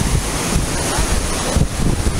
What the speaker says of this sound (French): on a cette petite cascade ici qui est super jolie